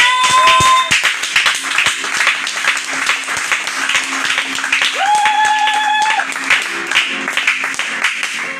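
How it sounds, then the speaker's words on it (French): A church congregation applauds, steady clapping filling the room for about eight seconds with a few voices and sung or called tones rising over the applause. "Acclamons le Seigneur."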